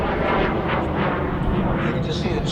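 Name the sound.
de Havilland jet aircraft with Goblin engine flying past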